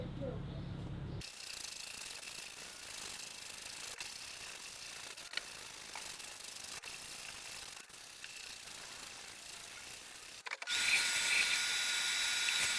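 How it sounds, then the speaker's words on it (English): A power sander whines steadily and loudly up close for about ten seconds while sanding a boat transom, with a brief pause before it starts and a harsher burst at the end. "I'm going to get going sanding all this stuff"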